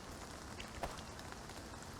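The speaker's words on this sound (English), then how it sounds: "sounds like we have some rain outside" Gentle rain patters steadily in a cozy farming game, Sunshine Farm, a soft even hiss of drops on the ground with no voices over it.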